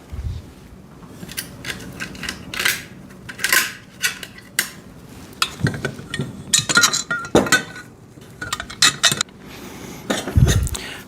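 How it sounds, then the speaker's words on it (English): Metal bolts clink and rattle as they are pushed through the frame holes of a foldable steel welding table, a string of irregular metallic taps and scrapes, close and fairly loud, with no talking. "and then put the bolts through."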